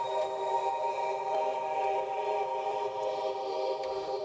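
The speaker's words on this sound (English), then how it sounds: "And also two atmospheric pads like this one here," Soft atmospheric synth pad from a trance production, a steady sustained chordal wash held at an even, fairly quiet level with faint shimmering detail on top and no voices.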